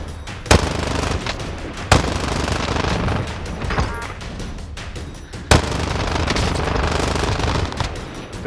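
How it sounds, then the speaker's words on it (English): A side-mounted light machine gun on a helicopter fires in Warzone. Loud, sustained automatic bursts ring out, split by several sharp heavy cracks. "the LMG on the sides of the heli"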